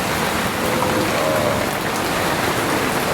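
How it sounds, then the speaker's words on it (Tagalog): Steady rain pours down during Typhoon Inday, a dense, even hiss of drops striking surfaces that stays loud and constant throughout, with no voices. "Bumabagsak ang ulan na ito."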